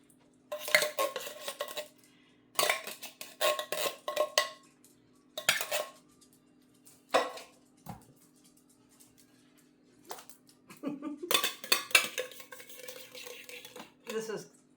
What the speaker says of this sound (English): So I'm going to be mixing a bunch of these together.